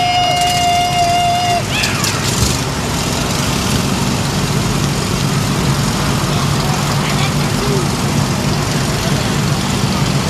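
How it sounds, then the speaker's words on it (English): Lawn mower engines at a mower poker run, a loud, steady low rumble of several small engines running and idling together, with a brief tone and voices at the start. "people, start your engines."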